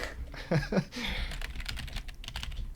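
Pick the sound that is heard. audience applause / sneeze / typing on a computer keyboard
typing on a computer keyboard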